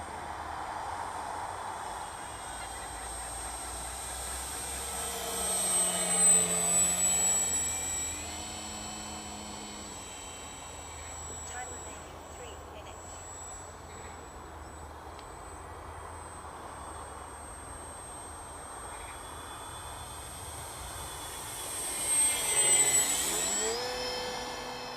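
An FMS Cub model airplane flies lazy coordinated turns, its faint electric motor whine drifting steadily and swelling twice as it passes closer, with no voices.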